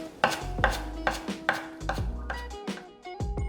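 Knife slicing a napa cabbage leaf into thin strips on a cutting board, a steady run of crisp, close chops with short pauses between them, with no voices.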